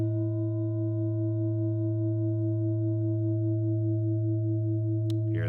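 A large singing bowl rings with a steady, sustained hum of layered overtones that hold without fading, clear and close, alone until a brief knock near the end.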